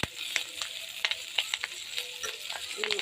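Food frying in hot oil in a home kitchen, with close crackling sizzle and frequent sharp pops and spits scattered irregularly throughout, fairly quiet and with no voices.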